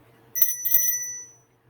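A single bell is struck once and its clear, sustained ring rises alone and fades slowly over about a second, between spoken readings.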